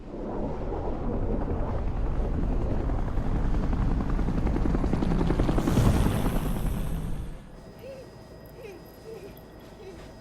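A helicopter from the video game Bayonetta roars with a loud, steady rotor drone and a swelling whoosh that peaks near the end, then cuts to quieter cabin ambience with faint chirps.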